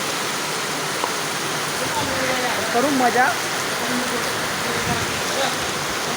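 Steady rain pours outdoors with water running and splashing nearby, a continuous even hiss throughout, while a person speaks briefly over it.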